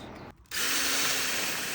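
Up close and loud, a power drill fitted with a masonry bit bores into ice in a steady, grinding whir that follows a brief lower burst and a short pause.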